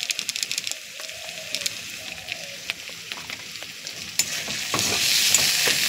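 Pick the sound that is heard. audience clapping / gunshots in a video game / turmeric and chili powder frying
turmeric and chili powder frying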